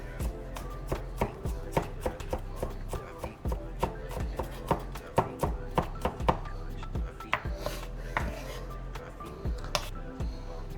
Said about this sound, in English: And then you also want to chop these up.